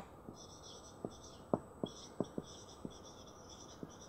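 Writing on a board during an English grammar lesson on punctuation: a handful of sharp, separate strokes tap out at uneven intervals, quiet and close against a faint, steady hiss.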